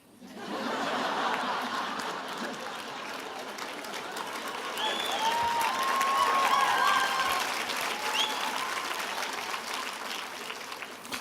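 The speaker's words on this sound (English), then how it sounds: "Don't clap at that, I'm only serious." Applause fills a commencement audience, a broad sustained clapping that swells in the middle and holds steady for about ten seconds, with faint chuckles mixed in and no speech over it.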